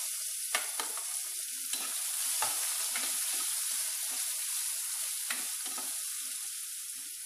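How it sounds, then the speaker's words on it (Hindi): Brinjal, potato, carrot and French beans sautéing in a pan, a bright steady sizzle close by, broken by several sharp scrapes and knocks of a spoon stirring. "ब्रिंजॉल, इसको अच्छे से सौते कर देते हैं।"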